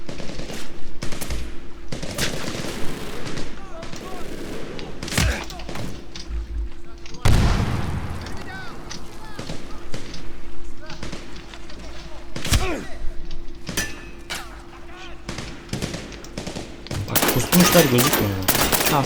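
Rapid automatic gunfire and single shots ring out in the video game Medal of Honor Warfighter during a hostage rescue mission, loud and close in repeated bursts with a few heavier booms, while a player talks over the shooting.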